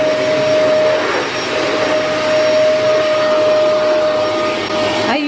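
A vacuum cleaner runs in a family home with a loud, steady roar and a constant high whine that hold unbroken throughout, with no voices.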